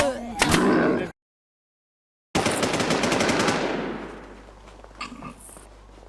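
Automatic gunfire rattles in the online shooter game Warz Infestation, with a loud close burst, a sudden cut, then a long rapid volley that fades into a tail of distant shots.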